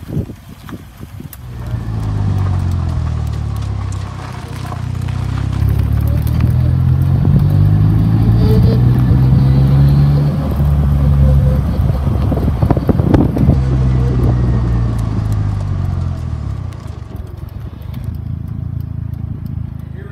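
A Polaris Slingshot drives along towing about 800 pounds behind it. Its engine rumble swells and holds steady, mixed with heavy wind buffeting across the microphone and some crackling.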